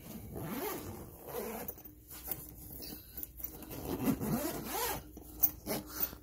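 Zipper on a heated, water-protective jacket for lithium batteries being drawn closed in several rasping strokes, close up and moderately quiet, with no voices.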